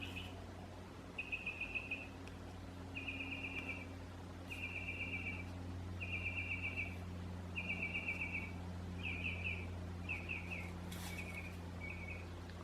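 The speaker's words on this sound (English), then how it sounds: "Birds are singing." Outdoor birdsong, a single bird repeating a short, high trilling phrase about every two seconds, faint over a steady low hum.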